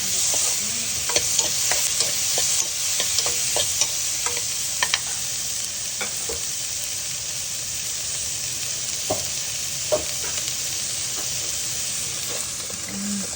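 Tomatoes fry in a pan, kept stirred while cooking a Nepali curry, with a steady close sizzle and hiss broken by frequent light spoon scrapes and taps.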